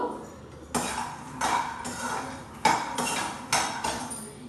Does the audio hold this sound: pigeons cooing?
no